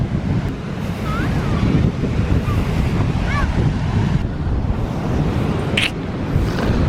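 Rough ocean surf and strong wind at an Outer Banks beach, a continuous roaring wash with heavy wind buffeting the microphone and faint distant voices.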